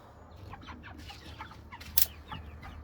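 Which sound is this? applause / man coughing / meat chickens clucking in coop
meat chickens clucking in coop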